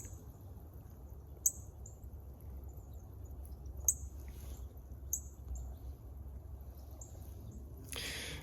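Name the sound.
female northern cardinal metallic chip calls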